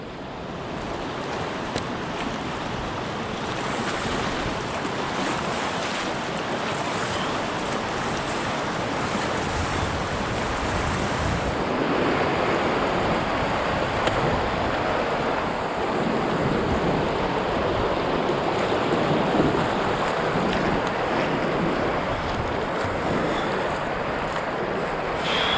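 Rapids on the Deschutes River near Bend, Oregon, rush in a constant broadband roar of churning water with gusty wind buffeting the microphone. The sound runs steady throughout with no talk.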